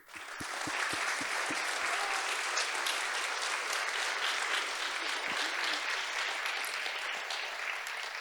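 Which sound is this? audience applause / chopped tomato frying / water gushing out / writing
audience applause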